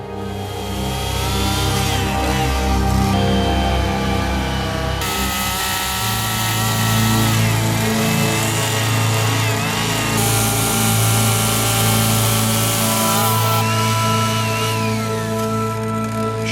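A chainsaw cuts and shapes wood in a sculptor's hands, its two-stroke engine droning loud and continuous throughout, with pitch shifting and revving as the blade bites in and eases off.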